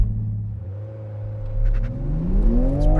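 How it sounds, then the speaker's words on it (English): A 2020 Toyota Supra launching from a standstill on a circuit for a standing quarter-mile run, its engine rumbling low and climbing steadily in pitch as it pulls hard, loud and close throughout. "The final thing for me to do in this new Supra is to set a standing quarter mile launch time"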